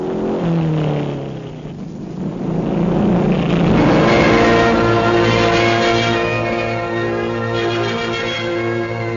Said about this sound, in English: a few motorcycles marked unfit for service, a track built by the men themselves off duty